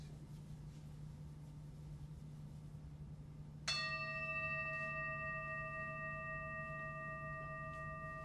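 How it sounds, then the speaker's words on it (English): A gong struck once at the close of a Taoist meditation session, ringing out with a bright sustained shimmer that lingers after the strike over a quiet room with a steady low hum. "I want to thank Mikey for the playing of the gong"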